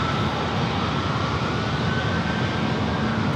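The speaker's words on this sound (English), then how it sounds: "There's that Dreamliner heading over" A Boeing Dreamliner jet passes overhead near San Diego airport, its engines giving a steady, fairly distant broadband rumble with a faint whine, continuous throughout and without speech.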